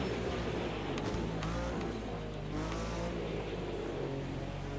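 A race car on a dirt course in a racing video game, a continuous loud engine drone with shifting revs and tire noise, steady and close, with no talk over it.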